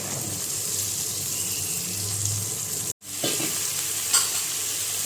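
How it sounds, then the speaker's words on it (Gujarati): Ridge gourd, potato and pigeon peas stirred in a hot pan of oil, a steady sizzle with scraping stirs, broken by a short cutout of sound before the frying resumes. "હવે આપણે જે શાક લીધા છે ગલકા ડોડકા બટેકા ને તુવેરના દાણા એ નાખી ને બધું મિક્સ કરશું"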